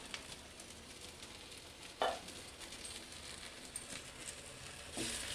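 Egg-stuffed capsicum frying in a pan over a low flame gives off a soft, steady sizzle with faint crackles and a couple of brief louder pops or clinks.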